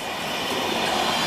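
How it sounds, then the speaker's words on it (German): An Austrian Intercity train passing close by, a steady, loud broadband rail rumble with wheel noise filling the whole short stretch, no voices. "Das ist ein Intercity aus Österreich."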